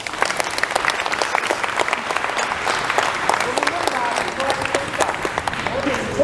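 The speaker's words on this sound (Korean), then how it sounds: "여러분 박수 한번" Seminar attendees at a Rotary district polio-fundraising gathering clap together in sustained applause, a crowd of hands sounding moderately loud with a voice talking faintly underneath.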